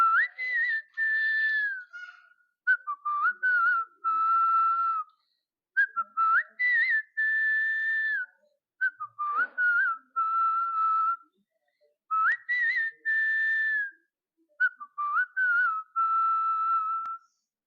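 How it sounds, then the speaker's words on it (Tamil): A man whistles a Tamil film song melody, clear and close, in sustained phrases with short breaths between them and no other sound behind. "விசில் அடிக்கும்போது பாட்டு கேட்டுன்னு அந்த பாட்ட அப்படியே விசில் அடிப்பேன்"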